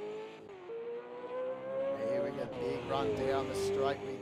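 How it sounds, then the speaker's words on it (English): A race car engine in a video game revs hard and climbs in pitch, shifting up into sixth gear as it accelerates down the straight at Bathurst, with a steady roaring drone throughout. "These cars sound so nice as well."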